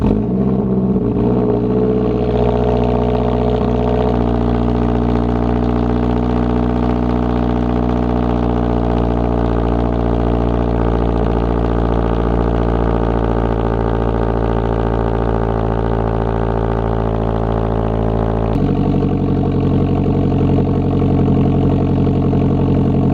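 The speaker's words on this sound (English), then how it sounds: "Hopefully you guys like that cold start, because I always do." BMW E39 engine at cold start, settling into a steady, loud idle with a deep even drone and smooth hum that shifts slightly lower near the end, heard alone and up close.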